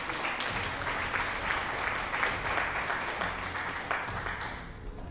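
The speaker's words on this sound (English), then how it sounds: "Thank you very much for the round of applause." A steady round of applause with dense clapping, sustained at moderate level before tapering near the end.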